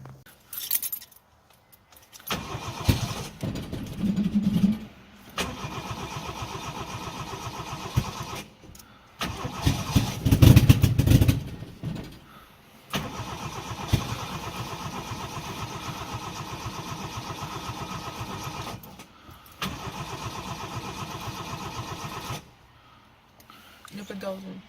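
A car engine is cranked over and over, with repeated stretches of starter whirring broken by pauses, and it never catches because the tank is out of fuel. Keys jingle and someone speaks French between attempts.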